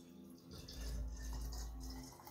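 Reverse osmosis filtered water pouring into a container to fill it, a steady close gushing flow with a deep low rumble that swells and holds for a couple of seconds.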